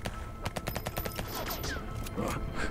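Rapid bursts of gunfire in the alien-invasion subway survival game Until We Die, with a quick string of sharp shots, then scattered single reports, all fairly faint and distant.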